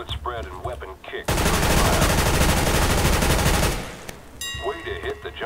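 Sustained burst of rapid automatic gunfire on a video game weapon training range, loud and continuous for about two and a half seconds, with talk before and after the firing.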